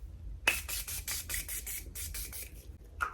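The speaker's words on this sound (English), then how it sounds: "grabbing setting spray and just" Morphe setting spray mists onto a face in a string of quick, soft pumps, each a short airy hiss, heard up close.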